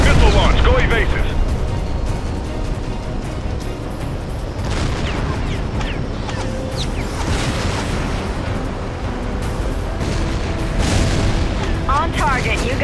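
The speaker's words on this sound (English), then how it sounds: "Missile launch. Go evasive." A missile launches in Tom Clancy's HAWX 2 over a loud, constant jet roar, with a cockpit warning voice and scattered pops and bursts all the way through.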